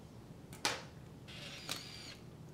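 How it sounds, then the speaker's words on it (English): A 35mm SLR camera fires its shutter with one sharp mechanical snap, followed by the short whirring buzz of the film auto-winding and a second click, close and quiet in a still room. "Close the camera back, turn the camera on, and press the shutter release."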